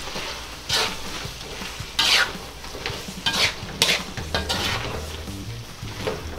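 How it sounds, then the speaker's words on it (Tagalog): Spoon stirring squid adobo simmering in coconut milk with green chili, a steady run of scraping strokes against the pan over a soft sizzle, close and fairly loud. "Tapos hahaluin lang po natin nang hahaluin ito."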